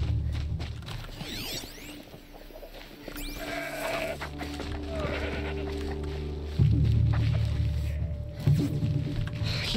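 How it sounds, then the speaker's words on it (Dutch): A goat bleats at a bandit camp in the video game Horizon Zero Dawn, with wavering calls over a busy ambient game soundscape of low rumble and scattered clatter. "Hier is ook een geit."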